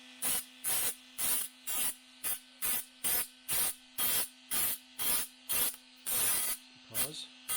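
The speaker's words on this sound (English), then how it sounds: "I'm going to run my little mini grinder down the edge" A small mini grinder is run along the rusty edge of a VW Beetle door in quick repeated passes, a harsh hissing grind cutting in and out in an even rhythm over a low steady hum.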